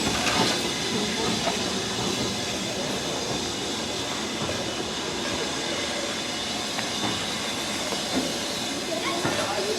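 A steam locomotive on the Bluebell Railway gives off a loud, continuous hiss of steam with rumbling and faint metallic clanks, close by, as a voice speaks briefly over it.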